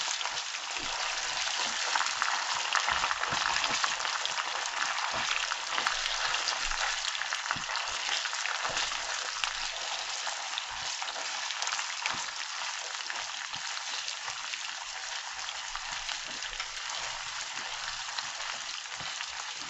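Cabbage and corned beef stew cooking in a pot, a steady loud sizzle and bubbling that runs unbroken throughout, with occasional soft clinks of stirring.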